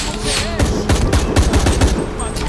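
Rapid bursts of gunfire from the video game Shadow of the Tomb Raider crackle close and loud in quick succession, with a voice talking over the shots.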